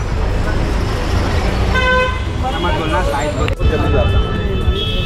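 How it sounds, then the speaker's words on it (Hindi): Car horns honk in a jammed street, with a sustained toot standing out over the dense rumble of engines and traffic noise, and more honks follow. "बघा कसे ट्राफिक पूर्ण जाम हॉर्न वाजवत आहेत."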